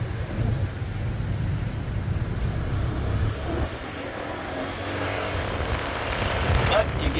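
A motorbike rides through Friday afternoon Bangkok traffic, its engine a steady low rumble mixed with surrounding road noise and other vehicles, continuous throughout.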